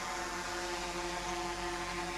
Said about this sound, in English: You might hear the drone whirring in the background